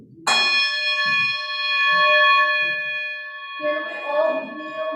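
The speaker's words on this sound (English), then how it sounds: "We enter into worship today with the sound of a chime." A chime is struck once to open a worship service, ringing out bright and loud with long sustained overtones that slowly fade, while a few quiet voices murmur underneath and a louder stir of talk joins near the end.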